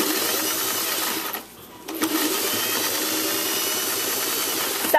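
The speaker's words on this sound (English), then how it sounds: "I'm going to stitch on the other side and stitch back up the other side." Sewing machine stitching a custom corset, running in a fast, even whir with a brief pause midway before the needle resumes, close and loud with no talk.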